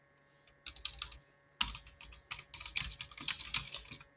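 Close, crisp clicking of fingers typing on a computer keyboard, in irregular bursts of keystrokes separated by short pauses.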